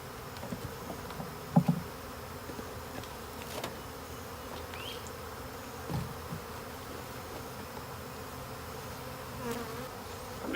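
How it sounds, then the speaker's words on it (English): A honey bee swarm being moved from a trap into a new hive fills the air with a steady, faint insect buzz, individual bees droning close by now and then over the continuous hum. "let these bees migrate over to their new home"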